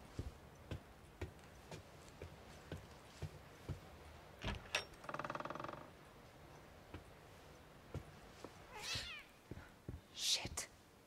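A cat meows inside The Medium horror video game, a few short cries near the end amid ticking, door-like clicks and scattered game noises, with talk around it.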